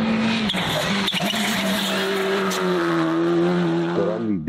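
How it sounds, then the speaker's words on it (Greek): Aston Martin hypercars parade past at Formula 1-level pace, a loud sustained engine drone with rising revs and pitch sweeping upward near the end, close and continuous. "μια εντυπωσιακή παρέλαση από τα hypercar της Aston Martin, που είναι άκρως εντυπωσιακά"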